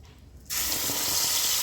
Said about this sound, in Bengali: আমি এখানে একটু মিক্সির বাটি ধুয়ে জল দিয়ে দিচ্ছি